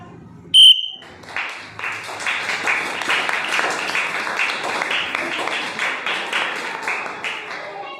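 A whistle sounds one short, sharp blast to start a classroom game. Right after it, a noisy group of children claps and shouts steadily in the room.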